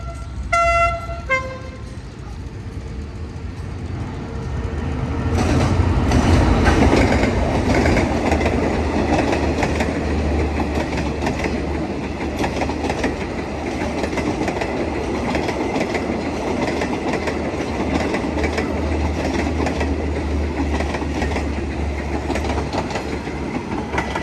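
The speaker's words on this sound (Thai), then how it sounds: "Special Express train number 37 and 45" A train horn sounds, then a loud rumbling Special Express train passes close by Pak Tho station in southern Thailand with continuous clattering wheels for a long stretch.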